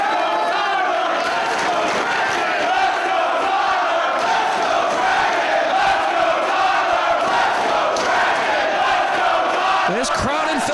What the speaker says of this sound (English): This crowd in Philadelphia split. Supporters for Danielson, supporters for Tyler Black as he tries to climb to the top rope